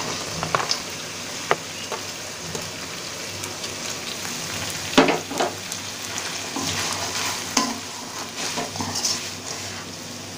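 Cauliflower and potato fry in oil with spices in a pan, a steady close sizzle broken by scraping stirs and irregular clatters of the spoon, with no talking.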